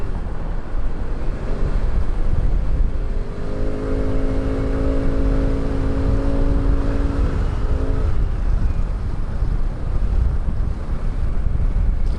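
Road traffic on a hot, overcast day, a constant loud roar of passing vehicles with heavy wind buffeting, and a harmonic engine tone that swells and fades mid-way, with no one talking.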